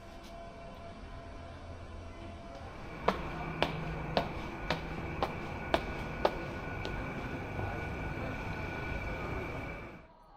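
Night sleeper train bound for Luleå rolling through Stockholm station after dark, a steady rumble with a run of sharp, evenly spaced clicks of wheels over rail joints midway, fading at the end.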